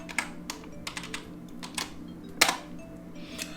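Typing on a computer keyboard while entering a Python command for the OpenCV library on Windows: sparse, quiet key clicks in an uneven rhythm, with one sharper louder keystroke partway through, close and alone.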